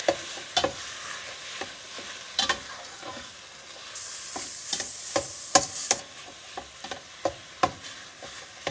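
Ground meat frying for sloppy joes, a steady close sizzle in the pan broken by repeated sharp scrapes and taps of a utensil chopping and stirring the crumbling meat, with no talking.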